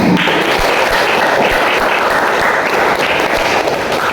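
Students applaud in a classroom at the end of a lesson, with loud, dense clapping that holds steady and close for the whole stretch.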